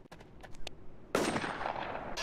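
Gunfire in the shooter War Inc Battlezone: several short, sharp shots crack in quick succession, followed by a louder burst of fire with a lingering roar, fairly faint overall.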